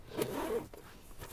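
A single quick zip of the side zipper on a Kemimoto center tool bag in a 2022 Can-Am Maverick X3 Max X DS Turbo RR, a close, rasping pull lasting about half a second before things go quiet.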